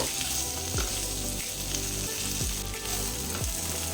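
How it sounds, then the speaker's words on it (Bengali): Okra and potatoes fry steadily in a pan, a loud continuous sizzle broken by about five scraping strokes of a spoon stirring the vegetables. "4 মিনিট পরে ঢাকা খুলে নেড়ে চেড়ে নেব।"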